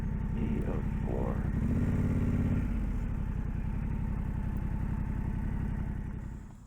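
Motorcycle on a road trip cruising steadily at night, a continuous mid-pitched engine drone with wind rumble and a brief rise in pitch, fading slightly at the end; a voice sings faintly over it.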